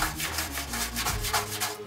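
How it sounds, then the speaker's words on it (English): A scuff pad rubs back and forth across a truck bed in a crosshatch pattern, giving a steady, close abrasive scrubbing with rhythmic strokes and no talk. "I've taken the liberty to prep this entire truck bed with the scuff pad"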